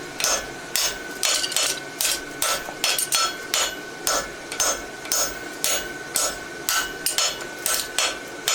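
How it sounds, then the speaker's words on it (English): Rounded hammer face striking a horseshoe bar to flatten it for a barshoe, a steady series of loud metallic blows in an even rhythm, close up with no talking. "come in with the round side of the hammer"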